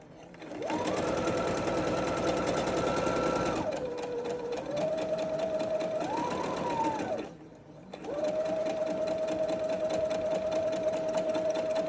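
A sewing machine stitches a fabric duckbill face mask in steady, humming runs. It stops once briefly, then starts again, close and loud, with no talking.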